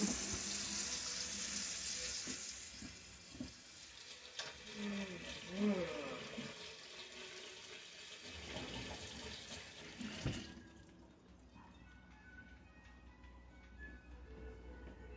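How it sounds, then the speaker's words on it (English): A kitchen tap runs steadily while hands are washed under it, a broad splashing hiss with brief bursts of louder splatter, then it cuts off and quieter room noise remains. "I'm gonna give my hands a quick wash."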